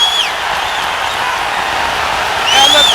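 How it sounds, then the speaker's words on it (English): A big arena crowd roars and whistles at a boxing match, a dense, loud, sustained cheer that swells again toward the end. "And the crowd going wild"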